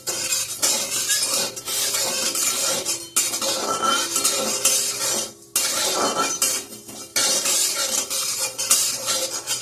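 Peppercorns, coriander, cumin and fennel dry roasting in a dry pan, with repeated metal utensil scrapes and clinks stirring the spices in bursts, a faint sizzle underneath and brief pauses between strokes.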